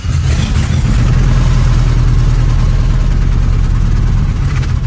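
A car engine with trouble in its number 1 and 2 cylinders idles loudly and steadily as the transmission is shifted into reverse, a constant low rumble throughout with no talking.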